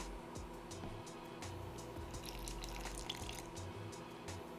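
Water pours from a tap into a bowl of pancake mix, a faint steady trickle with small drips, quiet and alone without talk.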